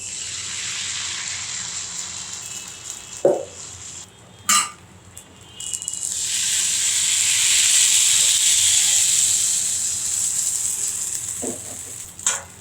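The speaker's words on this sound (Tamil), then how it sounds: "இதில் இப்போ ஆப்பத்தை மாவை ஊற்றிடலாம்." Appam batter poured into a hot appam pan on a stove, a rising broad sizzling hiss that swells and fades over several seconds, broken by a few sharp metallic clinks and knocks.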